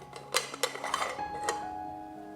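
A lid goes onto a metal toast loaf pan holding rising butter-layered bread dough, giving a few light metallic clinks and taps close by, then a faint ringing fade in an otherwise quiet kitchen.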